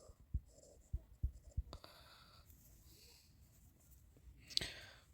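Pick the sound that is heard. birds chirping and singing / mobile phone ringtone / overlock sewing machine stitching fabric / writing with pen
writing with pen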